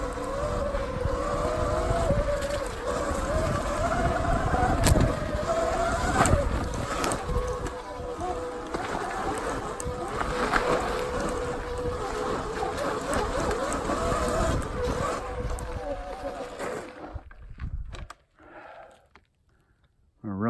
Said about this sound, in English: You can hear that front brake whining.